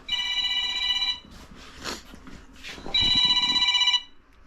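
A telephone rings in two long bursts of bright, trilling electronic tones, loud and close, with a short pause of quieter shuffling and faint talk between the rings.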